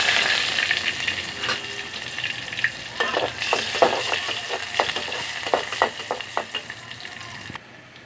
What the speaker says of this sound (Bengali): এখানে আমি তেল দিয়ে দিচ্ছি এখন আমি পেঁয়াজ দিয়ে দেবো